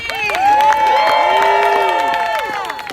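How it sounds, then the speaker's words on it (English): Crowd at a live rally of striking Starbucks baristas applauds and cheers for a speaker named Robbie, a loud, steady mass of clapping and whoops filling the whole stretch, with voices shouting within it. "yeah, one more round of applause for Robbie!"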